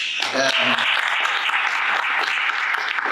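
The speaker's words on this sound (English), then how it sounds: "I think they deserve a round of applause." A round of applause for the panelists at a maritime bunkering services round table in Durban rings out, dense and steady clapping from the room for about three seconds, with a brief voice at the start.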